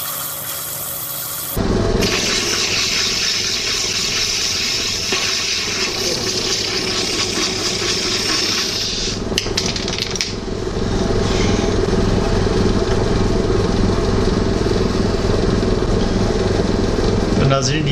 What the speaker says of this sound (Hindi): ये मैं काट रहा था तो ये तकरीबन स्टोन चूँकि बहुत पतला था और क्रैक भी था इसमें